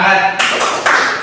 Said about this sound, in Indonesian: Bapak punya sebuah tepuk namanya tepuk semangat